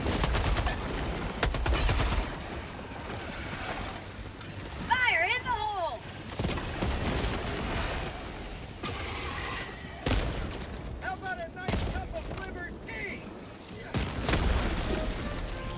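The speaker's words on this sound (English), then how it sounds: "Throwing grenade." Helldivers 2 battle sounds: repeated booming explosions and bursts of gunfire crack through the clip, with chirpy electronic effects mid-way and several heavy impacts, loud and busy.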